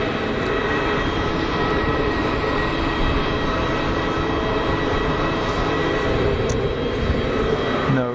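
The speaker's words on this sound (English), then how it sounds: "EasyJet Neo out for taxi" An EasyJet Airbus A320neo airliner taxiing at Geneva Airport, a loud, continuous jet engine roar with a steady whine, held evenly throughout.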